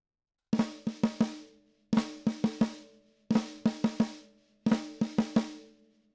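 A snare drum plays four short bursts in a funk pattern, each a flam followed by two quick sixteenth-note strokes, with brief pauses between them. Close and crisp.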